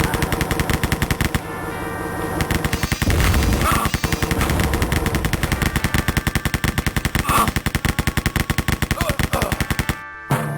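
Sustained rapid gunfire from the Wolfenstein video game, dense machine-gun bursts and shots rattling continuously and loudly throughout, with a brief pause near the end.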